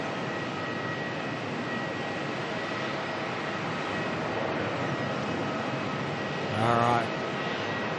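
Jet airliner in Qantas Retro Roo livery at Melbourne Airport, a steady loud engine roar filling the whole stretch with a brief louder swell near the end; a voice speaks briefly.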